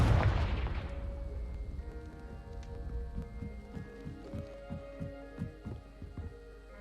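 A Confringo explosive spell cast in Hogwarts Legacy while fighting spiders in an underground cellar: a loud booming blast at the start that decays into rumbling, followed by a run of rhythmic low thuds and game music tones.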